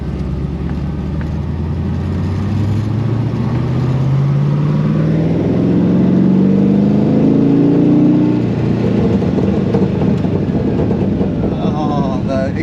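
The engine of a Corvette split-window resto-mod with a T56 Magnum six-speed revs and pulls through the gears, its exhaust note climbing steadily in pitch, loud and close, with a voice talking over it.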